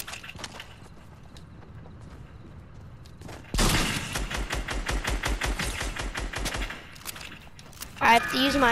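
Rapid burst of SMG gunfire in a video game, a dense run of sharp, loud shots lasting several seconds, with a quieter stretch of game sounds before it and a voice calling out near the end.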